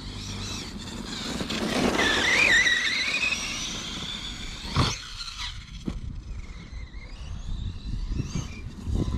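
A Team Associated Nomad DB8 RC buggy runs outdoors with a rising and falling motor whine, tyres scrubbing and squealing, and a few sharp knocks from landings.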